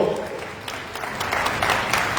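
Crowd at a Holi gathering in Lucknow gives a short burst of applause, a steady patter of many hands, moderately loud and rising slightly through the brief moment.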